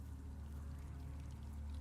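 Water ambience in the horror video game Vlad Circus, a faint, steady low rumble with a soft trickling wash and no speech.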